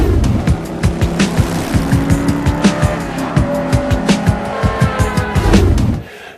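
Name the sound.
2008 Jaguar XF V8 exhaust rumble accelerating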